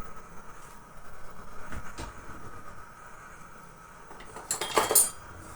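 Metal clatter of a cooking pot being set on a stovetop, faint and sparse, with a louder burst of clinking near the end as oil goes in.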